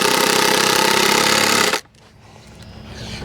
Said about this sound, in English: Putting the final couple of screws in.